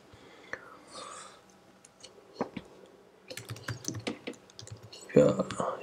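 Keystrokes clatter on a computer keyboard while Kotlin code is written for Android, sparse at first then in quick close bursts, with soft murmured speech and rustling underneath.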